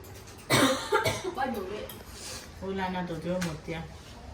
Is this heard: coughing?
yes